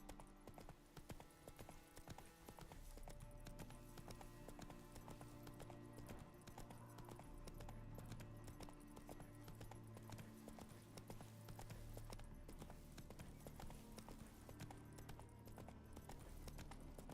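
A horse in The Witcher 3 clip-clops at a steady riding pace, quiet but continuous hoofbeats repeating throughout under faint game ambience.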